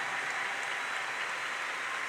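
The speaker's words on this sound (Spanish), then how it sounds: "vamos a darles un aplauso de felicitación y de reconocimiento" Congregation at a church gathering applauding in congratulation, a steady, dense wash of clapping that fills the whole stretch at moderate level with no voices over it.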